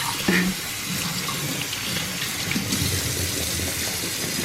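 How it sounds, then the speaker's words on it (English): Tap water running into a kitchen sink while potatoes are rinsed, a steady close splashing rush with a few brief clinks near the start, no voices. "Make sure to rinse your potatoes."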